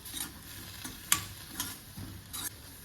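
Spoon stirring a masala of red chili powder and salt for an omelette, with a soft sizzle underneath and several distinct scraping strokes at an uneven rhythm, close by with no voices.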